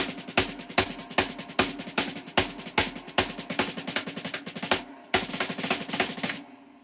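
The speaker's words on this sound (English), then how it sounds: "I do inverted paradiddles because they sound like this" Drums play a quick, continuous pattern of inverted paradiddles, accented hits and rolls, moderately loud, with a brief break near the end before resuming.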